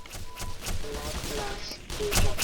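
Turret gunfire in Black Mesa, rapid bursts of shots with close, punchy reports mixed with game effects, and a voice talking over part of it.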